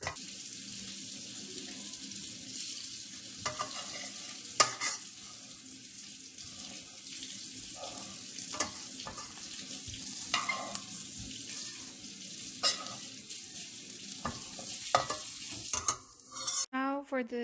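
A paneer gravy base is stirred as it fries in a pan. A continuous close sizzle runs throughout, broken by occasional sharp scrapes and taps of the spoon against the pan, with no talking.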